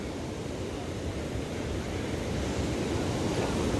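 Floodwater rushing over stony ground where the soil has been washed away, leaving bare rocks: a steady, broad roaring wash of moderate loudness with no breaks, and no speech heard.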